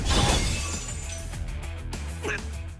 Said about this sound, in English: Our right dagger shatters.